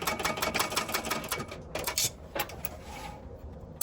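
A sewing machine stitching a fabric bag, a close, rapid mechanical chatter of needle strokes that runs in bursts with brief pauses and whirring starts and stops.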